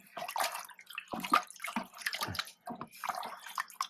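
Water poured out of a reef aquarium for cleaning canister filter media, with close, irregular splashing and trickling bursts separated by short pauses.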